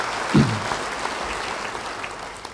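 Steady applause from a church congregation fills the space, a dense even patter of clapping with one brief louder thump near the start.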